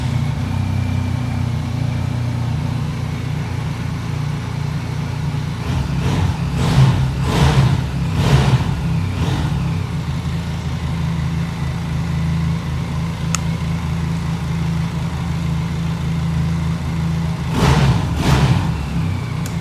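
A stock motorcycle idles with a steady low thrum, broken by several short, sharp throttle blips in a cluster midway and another pair near the end. The bike is close, and no one speaks.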